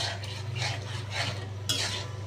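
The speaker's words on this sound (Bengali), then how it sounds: "এখন এখানে আমি ফেটানো টক দইটা দিয়ে দিচ্ছি। কিছুক্ষণ নেড়ে নেব।" Chicken korma being stirred in a pan after whisked sour yogurt is added, with a few soft scraping sweeps over a steady low hum and faint sizzle.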